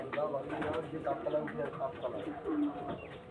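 Pigeons cooing at a pigeon sale, soft low repeated coos up close while someone talks over them.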